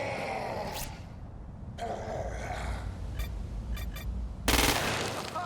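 Bursts of assault-rifle fire in Crackdown 2, with short rapid volleys and a louder, broadband burst near the end over a steady low rumble of game ambience.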